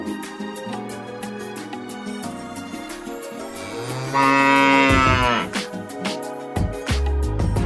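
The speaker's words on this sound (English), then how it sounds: "It makes the sound moo." A cow lets out a long, loud moo that rises above a cheerful music track, then the music carries on.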